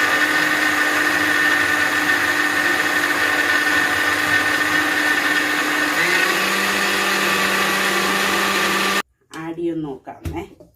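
Electric mixer grinder whirs steadily as soaked rice is ground into batter, loud and continuous with a pitch shift partway through, then stops abruptly before a voice speaks briefly.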